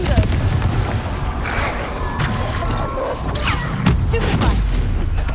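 A Confringo blasting spell explodes during Hogwarts Legacy combat, with booming impacts and crashes over a loud, busy game soundscape, and voices heard among the hits.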